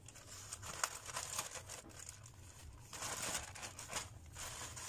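Plastic packaging for a One Piece character belt bag is slit and torn open with a cutter, giving close, quiet crinkling and tearing in irregular bursts with a brief pause midway and no talking.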